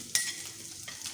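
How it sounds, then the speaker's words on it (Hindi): Onion and meat stir-fried in a pan for Japanese noodles: a soft, steady sizzle with a sharp scrape of the spatula near the start and another stir toward the end, close and alone. "तो भून देते हैं।"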